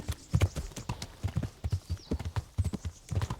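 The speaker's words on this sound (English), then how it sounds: "This horse is starting to breathe hard." A horse in the Kingdom Come: Deliverance video game gallops steadily, its hooves clip-clopping in a quick, continuous rhythm, close and moderately loud, while it begins to breathe hard.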